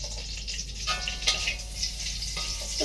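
Torn dried red chillies sizzle in hot oil, a steady close frying hiss with a few soft pops and clinks, and no voices.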